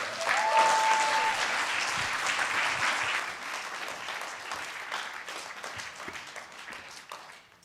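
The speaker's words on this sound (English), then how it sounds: "So please welcome, give a big round of applause, wherever he is, for Alioune Faye." A crowd at a cultural music event applauds a Senegalese performer being welcomed on stage, a full, sustained round of clapping that slowly tapers off toward the end.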